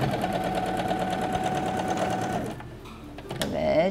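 A sewing machine stitches a gathered blouse in a fast, even whirring run that stops abruptly partway through, leaving a quieter moment before a brief handling noise.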